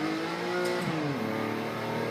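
A Porsche 911 race car engine at the Nürburgring drones loudly at steady high revs under throttle in second gear, the pitch dipping briefly midway and then holding, close and continuous with no talking.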